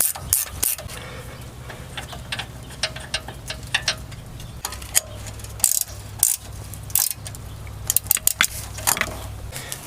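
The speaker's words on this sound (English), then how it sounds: "Let's go ahead and get these turned in a little bit" Ratchet clicks steadily as brake caliper bolts are turned in on a K2500 truck during front brake work, rapid pawl ticking in bursts with metallic taps and a low hum underneath, close up and alone.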